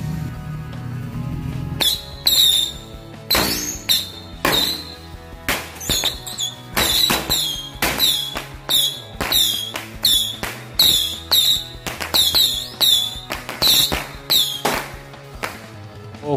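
A tikus box firecracker set off against a toy Jeep robot gives a loud, rapid series of crackling pops and squealing bursts that go on for about fourteen seconds, close by, with no talk.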